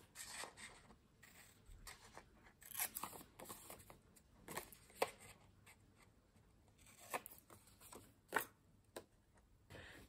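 Paper pieces are cut by hand with scissors for a soft-cover junk journal. Quiet, close snips and rustles come in irregular bursts throughout, with a few sharper cuts.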